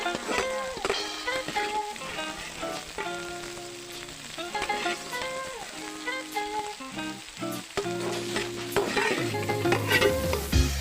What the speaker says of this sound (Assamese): এয়া এতিয়া ভাজি দিছোঁ আৰু আলুটো